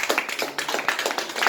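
Church congregation clapping for the Lord during a Spanish-language sermon, a brief burst of hand claps tapping in an uneven, fairly close rhythm of separate strikes.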